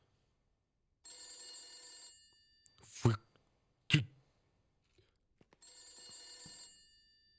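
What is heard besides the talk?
telephone ringing in The Beast Inside video game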